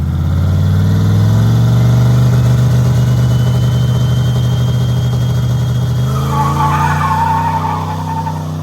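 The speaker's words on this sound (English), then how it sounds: "That was a trans brake hit." A drag-strip truck holds its engine at loud, steady high revs against a trans brake, then the note shifts and falls away as it launches hard, close and alone.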